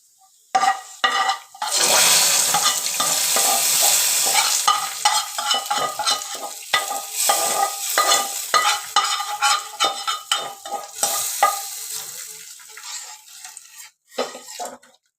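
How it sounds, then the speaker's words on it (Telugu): Spices crackle and sizzle loudly as a tempering for tomato rasam is poured into a pot, followed by stirring with a spoon and fading, intermittent sputters as the hot oil settles. "పోపు అయితే అవుతుంది"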